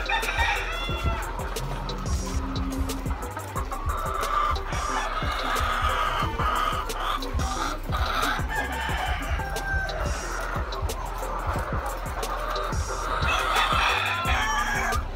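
Several chickens cluck and squawk continuously nearby, with occasional louder calls over a steady farmyard background.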